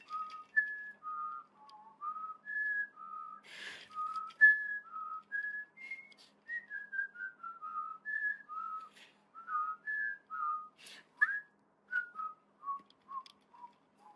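A lone person whistles a melodic tune close up, clear sustained notes in a steady phrase-by-phrase rhythm with short pauses and a few breaths, otherwise quiet.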